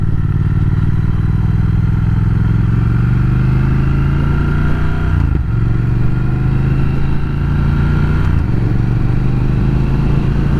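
A 2020 Triumph Speed Twin motorcycle rolling along at low speed, its twin-cylinder engine a loud, steady close-up drone that dips briefly twice as the throttle and gears change.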